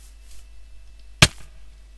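Single sharp hit sound as a player strikes a cat in Minecraft, a brief loud click-thud over a quiet game background with a faint hum.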